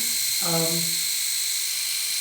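Men's 5-in-1 waterproof electric foil shaver runs with a steady, high-pitched motor whine, close and constant throughout, while someone briefly speaks over it.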